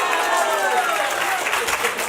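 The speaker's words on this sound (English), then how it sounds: "Give Patty a nice round of applause." A live comedy show audience breaks into a short burst of steady, dense clapping and applause after a card prediction trick.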